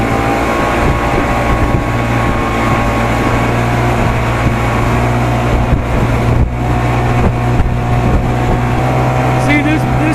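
A 55 hp Evinrude outboard motor runs at a steady cruising drone on a boat, loud and continuous with wind rushing over the microphone.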